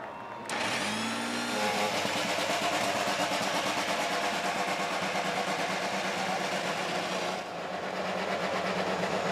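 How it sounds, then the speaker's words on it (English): A field of IndyCar race cars fires up at Iowa Speedway before the 2024 Hy-Vee Homefront 250, engines bursting into a loud, dense roar with rising revs that holds steady, then dips slightly near the end. "Drivers, start your engines."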